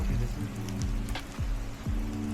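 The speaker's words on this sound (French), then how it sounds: "Il pleut de fou" Heavy rain falling in the Welsh countryside: a dense, steady hiss of rain with scattered droplet ticks, accompanied by recurring low rumbling thumps.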